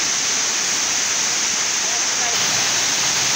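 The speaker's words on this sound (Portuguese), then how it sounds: "E olha ali do lado a cachoeira" A waterfall in southern Brazil's rocky landscape roars with a dense, constant rushing hiss, loud and unbroken from start to finish.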